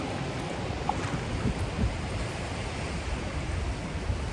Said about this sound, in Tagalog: Ito malakas yun din yung alon,